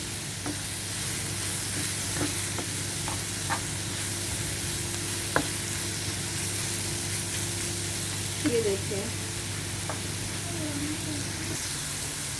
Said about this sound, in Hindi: पहले फ्राई करेंगे इसको तेज़ आंच के ऊपर।